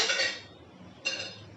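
Two sharp metallic clinks of a utensil against a pan while yogurt is stirred into ginger-garlic paste, each clink followed by a short ringing decay.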